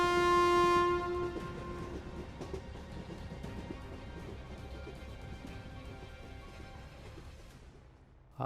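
A speeding train's whistle shrieks loud and sustained for about a second, then the train's steady rumble and rattling wheels carry on at moderate level before fading out, no voices.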